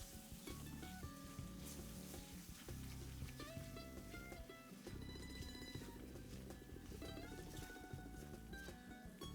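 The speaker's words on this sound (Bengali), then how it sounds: "এগুলো দিয়ে পাঁচ মিনিট কষবে" Spices, tomato and whole raisins frying in a pan for Bengali fish kalia; a steady sizzle runs under faint music throughout.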